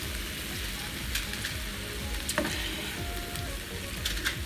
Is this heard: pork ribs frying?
yes